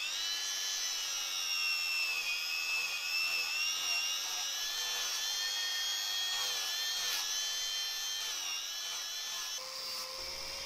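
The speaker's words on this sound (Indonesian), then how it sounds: "kita haluskan menggunakan mesin amplas" A power sander whines steadily for about ten seconds, a continuous high-pitched motor hum with faint grinding against wood, loud and close, no voices.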